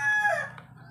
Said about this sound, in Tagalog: At pasensya na kayo sa manok.